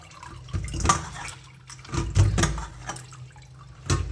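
Water poured off boiled bottle gourd leaves in a home kitchen, heard as a few close splashing, dripping bursts of liquid falling into a sink.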